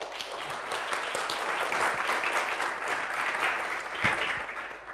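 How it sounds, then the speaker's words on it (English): Audience at a EuroSciPy conference session applauding a pair of speakers, a dense steady wash of many hands clapping from a room of people, moderately loud and continuous throughout. "let's give them a warm applause first"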